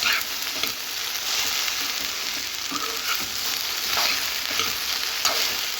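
Okra stirred and sautéing in a pan over medium heat, a loud continuous sizzle with regular scraping strokes of a spatula and no voices.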